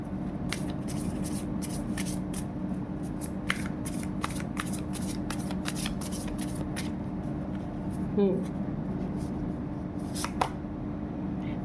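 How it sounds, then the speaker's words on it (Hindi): Tarot cards being shuffled and drawn: a steady run of close, crisp riffling flicks through most of the stretch, each a sharp papery burst, over a constant low room hum with a faint voiced sound near the end. "अब मैं 2 कार्ड और लेती हूँ, इसके बाद देखते हैं कि क्या आता है।"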